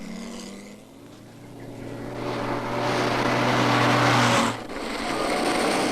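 Prototype Mini cars are driven hard around a disused airfield converted into a test track, an engine note rising and growing louder as a car approaches and passes close, then cutting off abruptly near the end.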